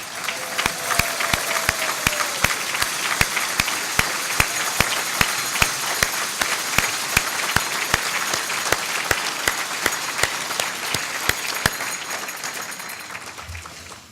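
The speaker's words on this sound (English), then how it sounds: "let's give them a round of applause and thank them for their great work" Steady applause from an awards-ceremony audience for business award finalists, a continuous even wash of many hands with one nearby clapper standing out in a regular rhythm, sustained for about fourteen seconds before tapering off.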